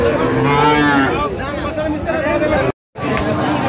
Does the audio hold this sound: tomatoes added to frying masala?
no